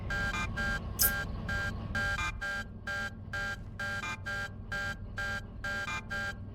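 A train alarm in the Derail Valley video game beeps in a fast, regular series of short electronic tones, moderately loud over a low rumble, with no talking.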